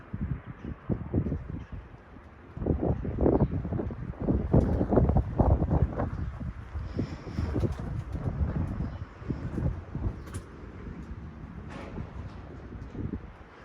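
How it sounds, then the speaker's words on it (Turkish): Gusty morning wind buffets an outdoor microphone at a pigeon loft, loud rumbling bursts that rise and fall in strength, with faint bird sounds in the background. "Aslında hafiften biraz fazla rüzgarlı"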